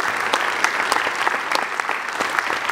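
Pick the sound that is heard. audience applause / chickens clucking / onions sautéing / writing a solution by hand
audience applause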